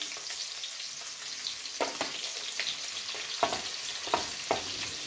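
Chopped onion dropped into a hot pan and frying for a rice dish, a soft continuous sizzle with a few sharper crackles and pops, quiet and close, no voices.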